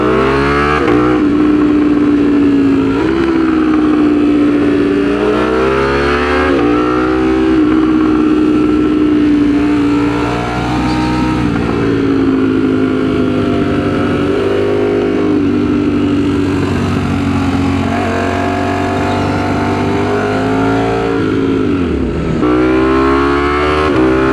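A Ducati Streetfighter V4 motorcycle engine revs loud and close, a continuous throaty roar whose pitch climbs and falls repeatedly through sustained throttle blips.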